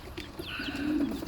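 A pet pigeon, a racing finisher bird, coos in a low, rolling murmur that swells toward the end, with faint higher chirps above it, close and fairly quiet.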